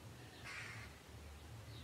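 A crow caws in a garden with a new bird bath on a fine day: a single hoarse call in the middle of a soft, quiet outdoor background, fairly distant and faint.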